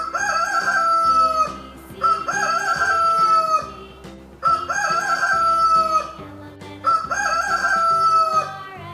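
Rooster crowing repeated four times at a steady pace, loud and close, with low musical accompaniment from a children's phonics song about farm animals.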